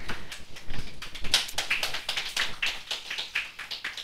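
A woman clapping for herself, a quick run of light, sharp hand claps at an uneven pace, close and clear in a quiet room, with no one talking.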